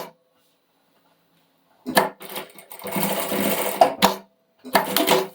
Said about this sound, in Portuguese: E desse lado aqui, eu vou costurar a meia argola,